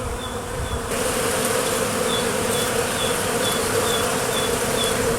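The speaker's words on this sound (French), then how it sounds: "Ça fait plaisir de voir ces abeilles s'activer comme ça." Many honeybees buzz steadily and close by in a dense, continuous drone, with no voices.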